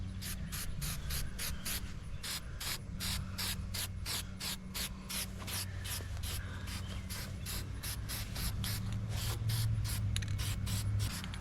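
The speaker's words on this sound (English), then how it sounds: "spray it on the rusty spots" Rapid, regular bursts of aerosol spray hiss one after another at close range onto rusty metal around a hot cracked Dodge Durango header, a steady rhythm of short sprays throughout.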